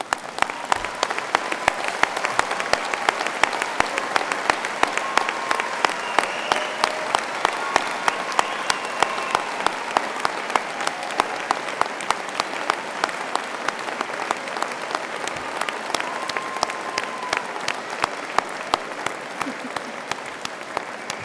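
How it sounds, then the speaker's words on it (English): Graduates and audience at a university graduation ceremony applaud together, a dense and steady round of clapping that holds for about twenty seconds with faint voices mixed in. "join me in giving them a well-deserved round of applause."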